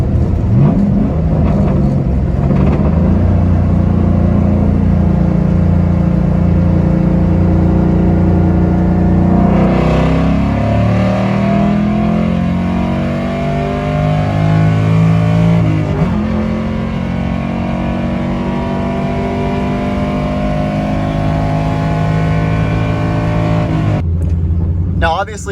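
A car fitted with 4.10 rear gears accelerates through the revs and then settles into a steady cruise, the engine droning loud and close inside the cabin while someone talks over it.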